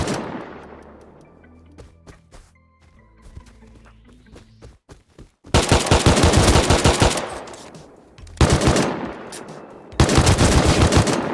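Gunfire in the survival game Rust: scattered single shots and short clicks at first, then loud sustained automatic bursts in three long volleys with brief gaps between them, sharp and close.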